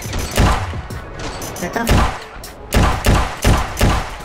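Gunfire from a blocky, square-headed shooter video game, with repeated sharp shots and bursts arriving in uneven clusters, loud and close, while someone talks over the action.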